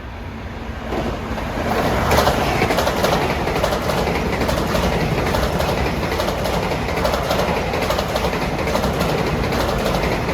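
A Long Island Rail Road train running from Ronkonkoma to Grand Central passes through Mineola on a triple-track line at morning rush hour, a loud, sustained rumble and rushing roar that builds within the first couple of seconds and holds steady.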